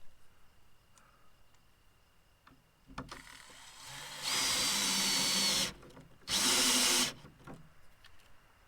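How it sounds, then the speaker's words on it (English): A power drill drives screws into a gate made from a six-foot fence panel in two loud, sustained whirring bursts, preceded by quieter handling clicks and shuffling, with no talk. "I'm going to run these in most of the way with the drill"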